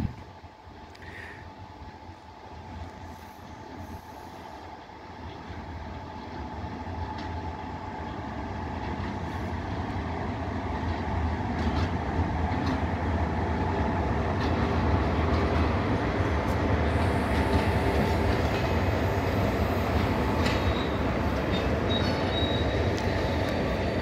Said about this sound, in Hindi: ये है वो freight train, dual electric locomotive लगे हैं इस ट्रेन के अंदर